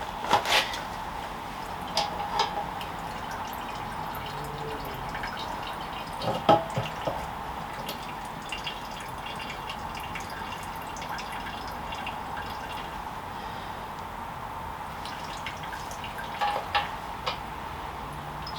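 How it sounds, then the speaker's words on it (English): Two-stroke fuel drips from a leaking British Seagull outboard onto a floor, giving scattered faint ticks and drops over a steady background hum, irregular and close. "that's got a massive leak and I'm now wasting all my lovely two-stroke on the floor"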